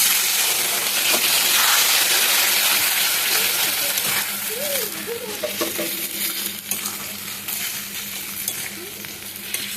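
Water pours into a hot pan of sizzling raw mango chutney, with a loud, steady hiss and bubbling that eases slightly as stirring clinks sound close by.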